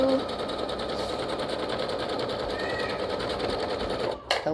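A sewing machine runs steadily, stitching dress fabric, with fringe and ribbon being sewn on, in a continuous close hum that carries on for several seconds before a brief clatter near the end.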